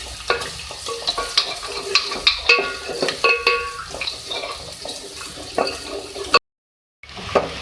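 Crushed ginger sizzles and crackles with onions in a hot pan while being stirred, with scraping and clinking close by, then a brief silence near the end.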